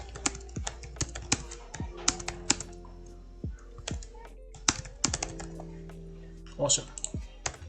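Rapid clattering keystrokes on a computer keyboard while C++ code is written, close and crisp in uneven bursts with short pauses, and someone speaks briefly over the tapping.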